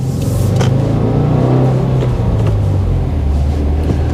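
A 2020 Subaru WRX Limited accelerates hard with a loud, close engine roar that climbs in pitch, then drops briefly as it shifts from first into second gear before pulling again.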